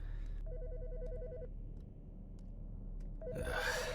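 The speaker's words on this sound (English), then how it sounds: "The fucking phone." A telephone rings in the video game Autopsy Simulator, sounding two electronic trilling bursts, one longer and one shorter, over a low steady hum.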